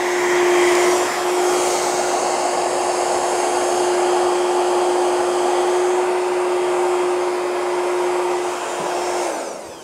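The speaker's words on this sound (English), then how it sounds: "if you're using the dryer at home, the best thing to do, just at the very, very end, turn on your dryer" A handheld hair dryer runs steadily on its cold setting with the heat switched off, a constant close-up whoosh with a fixed motor whine. It blows without pause for the whole stretch and cuts off at the very end.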